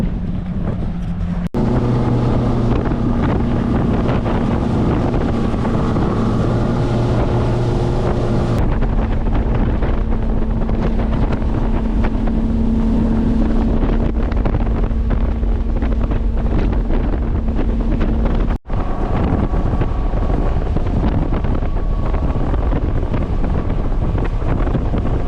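Strong wind buffets the microphone over the steady drone of an outboard boat motor running on the Apalachicola River, loud and continuous, the engine pitch shifting partway through.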